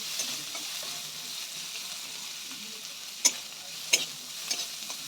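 Chopped onion stirs and fries in a pan with a steady, soft sizzle, broken by a few sharp scrapes of the spoon; fairly quiet, no voices.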